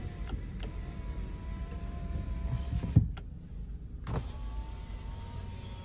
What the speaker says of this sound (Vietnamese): Gương kính chỉnh điện thì còn hoạt động rất bình thường